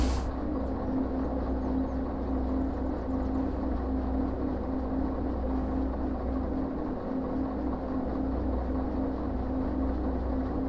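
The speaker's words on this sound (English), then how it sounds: "Engine number 4 fired up." A DE2 diesel locomotive engine idling in the Derail Valley game, a steady, loud low rumble and drone that runs unchanged the whole time, with no voices.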